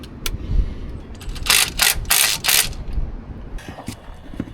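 A wrench works a threaded fuel-system fitting on a CAT D8 dozer, giving a quick series of close, dry metallic ratcheting clicks in short bursts, with no talking.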